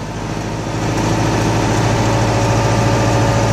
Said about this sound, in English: now in order to turn the brush cutter on, you want to rev your RPMs to at least 1800